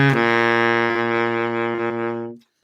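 A baritone saxophone holds one low, rich, steady note for about two and a half seconds before cutting off, played alone as part of a minor pentatonic blues scale.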